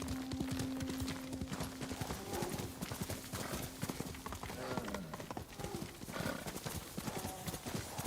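Rapid rhythmic clip-clop of horse hooves trotting along, steady and close, in Ghost of Tsushima, with game-like tones and sound effects mixed underneath.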